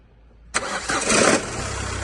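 A Renault car with a rattling noise while running starts up suddenly with a sharp crank, revs briefly, then settles into a steady, close idle with no speech over it.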